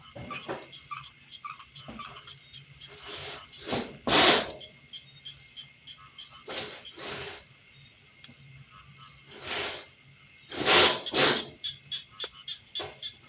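Crickets chirp at night in rice-field countryside, a steady high shrill drone with louder pulsing bursts now and then, carrying on alone with no one speaking.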